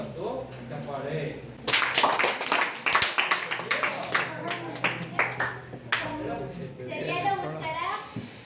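At a quiz programme, a group gives sharp, rhythmic bursts of hand clapping for a correct answer over several seconds. Talking runs before, during and after the clapping.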